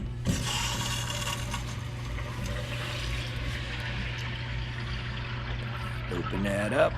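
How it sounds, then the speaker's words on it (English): A 12-gallon electric hot water tank fills with water, giving a steady, even rush of flowing water over a low constant hum for the whole stretch, with a few brief clinks near the end. "You hear the tank filling up with water."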